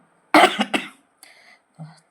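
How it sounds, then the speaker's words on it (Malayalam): A person coughs hard twice in quick succession, close and loud, then a short throat-clearing rasp and a faint low cough follow in an otherwise silent room. "തലയിൽ വെള്ളം വീണതുകൊണ്ട് നല്ല ചുമയുണ്ട്"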